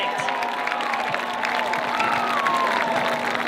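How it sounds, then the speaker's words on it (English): A crowd at a high school boys varsity football game claps and cheers in a steady, dense wash of applause for the school board members, with voices mixed into the noise. "Let's give a round of applause to our school board members"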